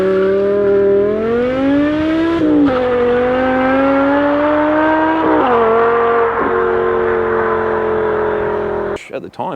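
A Kawasaki ZXR250 motorcycle engine screams at high revs through a 0-100 km/h acceleration run, a loud piercing whine that climbs steadily, dips briefly at each gear shift and climbs again before cutting off abruptly.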